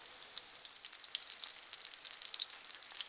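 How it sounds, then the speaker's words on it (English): Grouse tenders fry in a pan with a steady, faint crackling sizzle, dense fine pops continuing throughout without any voices. "We'll let these cook on the first side for a few minutes until it starts to get golden brown"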